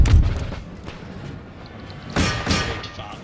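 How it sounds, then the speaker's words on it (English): Artillery fires in Empire: Total War, a heavy boom at the start and then two more loud, closely spaced cannon blasts that ring out over the battlefield ambience. "Artillery to fire on these guys."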